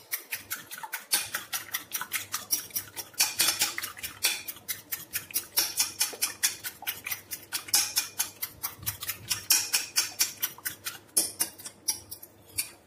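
Quiche mixture seasoned with salt and black pepper being whisked in a bowl, a fast steady series of light metallic clicks and taps from the whisk against the bowl, close by and without talk.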